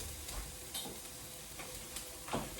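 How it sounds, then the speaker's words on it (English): Onions browning in a pan for a spicy stir-fried Swiss chard, a soft continuous sizzle with occasional stirring scrapes and faint ticks, close and fairly quiet with no talking. "the onions are browning a little bit"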